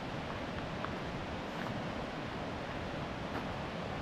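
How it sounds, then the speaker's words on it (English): Steady broadband rushing water, a continuous wash of flowing sound with no voices, constant in level throughout. "And just listen to that river."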